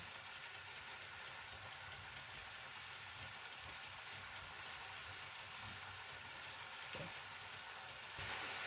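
Chicken fries in oil in a pan, a steady, faint, even sizzle that continues unbroken, with a slight rise near the end and no talking.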